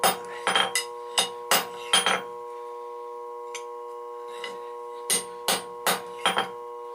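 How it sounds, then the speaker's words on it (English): Sharp metallic hammer strikes on bent rebar ring out in two bursts of quick blows, with a short quiet gap between them, loud and close. "you just hammer right in the joint"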